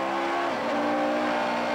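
A 1999 Super Touring race car at Lakeside circuit roars past at close range, its loud, steady engine note dropping in pitch as it goes by, followed by more engine noise from nearby cars.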